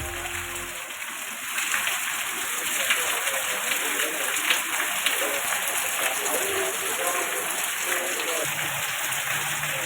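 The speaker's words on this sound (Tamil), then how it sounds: "உதகை மற்றும் அதன் சுற்றுவட்டார பகுதிகளில் சுமார் 1 மணி நேரத்திற்கு மேலாக பெய்த கனமழை." Heavy rain pouring steadily in Ooty, a dense continuous hiss and patter of water that holds at an even, loud level throughout with no voices.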